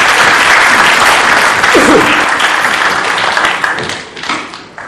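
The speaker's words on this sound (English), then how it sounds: "So can you please give him a big round of applause?" A large audience at a panel discussion breaks into loud, dense applause for a panelist, a continuous wash of clapping that holds strong before tapering off toward the end.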